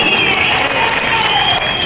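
Audience applause at a Telangana political gathering, a dense steady patter of many hands clapping throughout, loud and close, with faint crowd murmur mixed in.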